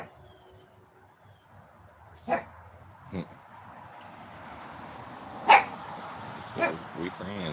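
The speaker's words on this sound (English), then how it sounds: "Neighbor dogs." Neighbourhood dogs bark in the distance, a handful of scattered single barks over constant cricket chirping and a steady high insect tone outdoors in the morning.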